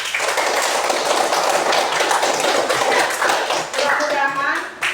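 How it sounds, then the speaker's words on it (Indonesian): A classroom of students claps together after group presentations of discussion results, a dense burst of hand claps that fills the room, with voices mixed in and a few louder taps near the end. "Tepuk tangan dulu bersama-sama."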